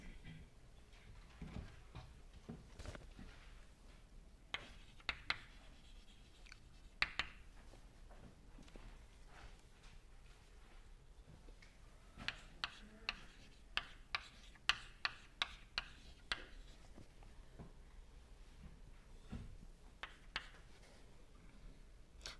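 Chalk or marker writing out a momentum equation on a board during a lecture, heard as faint, scattered taps and short scratchy strokes in irregular bursts against a quiet room.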